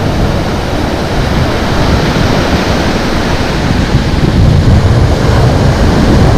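Constant roar of wind and surf on an open shore during shore jigging near a lighthouse point, loud broadband wash of waves and wind buffeting the microphone throughout, no voices.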